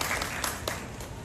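Audience claps briefly at a children's award ceremony in a railway station, a dense burst of applause lasting about a second.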